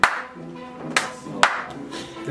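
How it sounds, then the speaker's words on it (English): At a magic show, a few sharp, widely spaced claps ring out roughly every half second, close and distinct, with faint voices underneath. "Yes, we'll clap."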